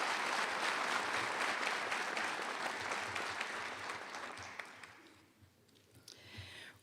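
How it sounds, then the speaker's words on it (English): An audience applauding at a college nursing commencement ceremony, with dense steady clapping from a large crowd that holds for several seconds and then thins out and fades toward the end. "I think they deserve some applause again."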